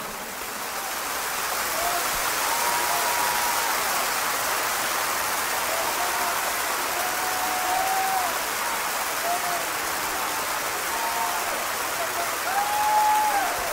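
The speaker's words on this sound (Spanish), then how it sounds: "Dale un fuerte aplauso, Señor." Sustained applause from a church congregation fills the space in a steady, dense wash of clapping, with faint higher voices briefly rising above it.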